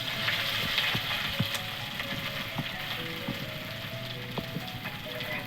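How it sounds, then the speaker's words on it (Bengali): A pea filling with ginger fries in oil in a wok, giving a steady soft sizzle with scattered small pops and crackles throughout. "কচুরি পুরটা আমি ভেজে নিচ্ছি একটু আদা দিয়ে ভেজে নিয়ে আর কড়ার মধ্যে এবার কড়াই বাটাটা দিয়ে দিচ্ছি তেলটা হয়ে গেছে"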